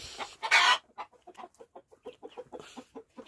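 Chickens in a village coop cluck in quick, irregular bursts close by, with a louder squawk near the start and then a busy run of short clucks, no talking.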